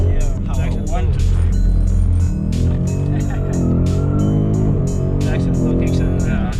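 A Ford Figo slides around a skid pan, its engine droning and tyres scrubbing in a steady near roar, while people talk inside the car.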